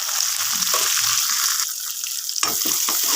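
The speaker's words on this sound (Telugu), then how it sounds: "ఆనియన్స్ అనేది వేగుతున్నాయి" Onions fry in hot oil with green chillies, chilli powder and curry leaves, giving a loud continuous sizzle, with a few clinks and stirring scrapes near the end.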